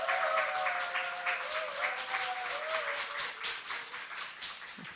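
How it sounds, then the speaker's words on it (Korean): A congregation at a Friday night worship service claps for a worship leader. The applause is steady and moderately loud, with a faint held tone running beneath it. "우리 박수 한번"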